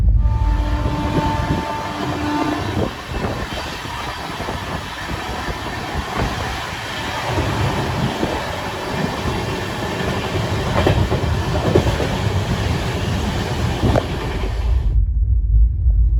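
A passenger train on the Kolkata to Puri route runs at speed, heard from inside. Its steady rumble and rhythmic clatter of wheels over rail joints continue throughout, loud and constant, then cut off abruptly at the end.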